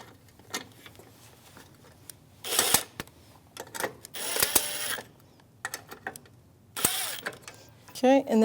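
A 10mm socket ratchet snugs up bolts on a front bumper bracket of a 2016–2025 Chevrolet Malibu, giving several short bursts of clicking pawl mixed with metallic handling noises, while someone talks at times.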